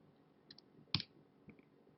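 An admin password is typed on a keyboard in a quiet room, heard as a few soft, sparse clicks with one sharper keypress near the middle.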